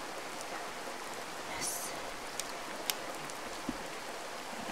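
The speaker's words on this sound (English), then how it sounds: "Oh, it's raining." Steady rain falls in the Boogeyman horror video game, a constant even hiss with occasional louder drips and taps, and no talking.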